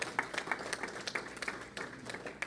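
An audience claps at a school national competition prize distribution, the applause faint and scattered, with uneven bursts of clapping over a few seconds.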